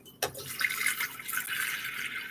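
Spring water pours steadily into an electric stainless steel and glass tea kettle, a continuous bright splashing rush that begins abruptly with a short hiss and runs on at even strength, close by with no talking.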